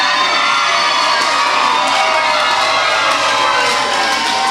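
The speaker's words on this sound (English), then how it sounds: "I like the crowd is ecstatic." A wrestling crowd at a steel cage match in Yanceyville, North Carolina, roars in a loud, dense, sustained wall of cheers and shouts that holds steady throughout without a break.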